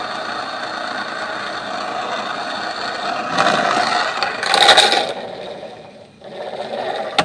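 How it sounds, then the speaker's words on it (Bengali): A small electric motor whirs steadily as it drives a belt on a homemade bottle toy car, a close buzzing hum that swells and rattles midway, dips briefly and then resumes. "এখন পাওয়ার দিলে এই মোটর বেল্টকে ঘুরায় বেল্ট এটাকে সামনে শাখাগুলোকে ঘুরায়"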